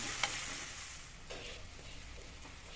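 Red onions sizzle steadily in hot oil for a mackerel curry, a close, continuous frying hiss with a few soft stirring scrapes and no talking.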